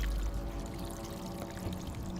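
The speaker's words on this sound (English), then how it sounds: "Oh, what's that water sound?" Steady water pouring sounds out in the video game Underworld Ascendant, a continuous close stream with soft splashing throughout.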